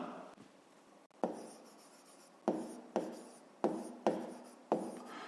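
A pen writing a fifth-grade math solution by hand, a steady scratch broken by about six sharp strokes at roughly regular intervals, close and fairly quiet, with no talk.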